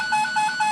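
An alert tone sounds on communication equipment at an underground Minuteman missile launch console, a steady electronic two-tone warble that repeats in short pulses, close and clear.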